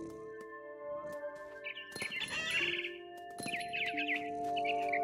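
Mother bird chirps in the video game What Remains of Edith Finch, with bright, rapid twittering calls coming in short bursts over a soft ambient backdrop and tonal music. No one speaks.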